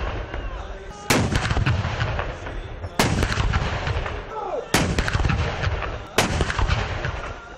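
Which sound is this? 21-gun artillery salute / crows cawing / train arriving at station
21-gun artillery salute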